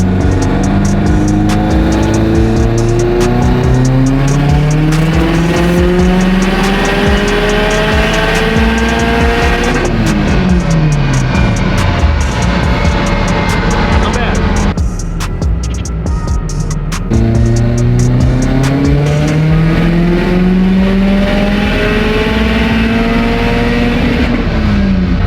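A 2019 Subaru WRX STI engine screams through repeated dyno pulls, revs climbing, dropping sharply at each shift and climbing again, very loud and close throughout with no talking.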